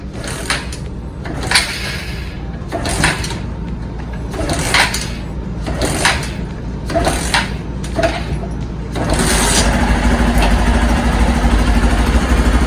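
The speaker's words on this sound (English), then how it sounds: "Now let's just crank the motor on." A Hero Xpulse 200 motorcycle with an iridium spark plug, repeated cranking bursts in an uneven rhythm before the engine catches and settles into a steady, close running rumble.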